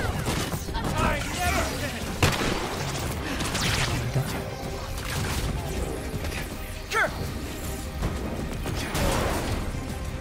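Shotgun blasts from the Winter Soldier character in the video game Marvel's Avengers, punchy booms and crashes scattered among dense combat clatter, with a player talking over the action.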